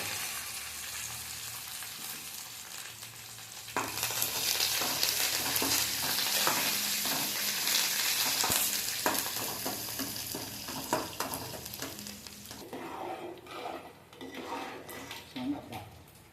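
Curry leaves and onions hitting hot oil in a pan for a lentil dish, a loud spitting sizzle that swells suddenly, with metal spoon clinks and stirring against the pot, easing toward the end.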